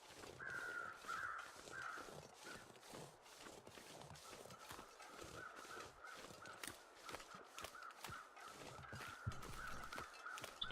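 Crows caw faintly in the distance in The Long Dark's wilderness, a few raspy calls drifting over a quiet, breezy outdoor background with soft crunching steps.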